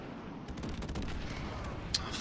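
Airstrike explosions and gunfire rumble in a video game, a dense run of overlapping booms and cracks at moderate level with no voices.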